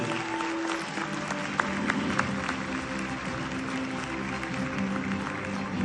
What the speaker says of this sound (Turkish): Günay teyzemiz alkışlarla sahneye giriyor